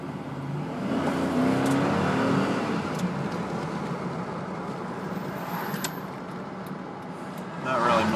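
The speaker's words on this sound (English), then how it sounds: "I'm gonna do a little bit of an acceleration video for you guys." A 2002 Chevy Avalanche Z66 pickup truck accelerating, heard from the cabin as a steady loud engine and road rumble that builds, eases slightly, then swells again near the end.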